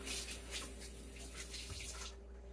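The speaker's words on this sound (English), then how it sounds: "Rinse our hands off again." Hands rinsed under a running kitchen tap while making a kidney bean and mushroom meal prep, a steady close splash of water with a low hum beneath, cutting off near the end.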